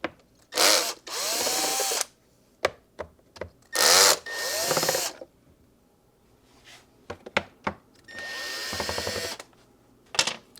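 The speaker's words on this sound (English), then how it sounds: "we're going to just continue removing screws from the bumpers and the fender delete" Power drill removing screws from the bumpers and fender delete of a car during a GT lower kit install, firing in several short whirring bursts of a second or so, close and loud, separated by quiet pauses and small clicks.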